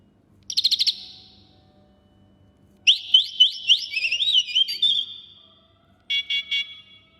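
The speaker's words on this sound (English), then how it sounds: "Flick forward in any status to trigger horn and flashing." Gaciron V18-200 electronic bike horn plays three synthetic bird-like chirp sounds: a fast trill burst, a longer warbling whistle phrase, then a short pulsed tone, each loud and clear against silence.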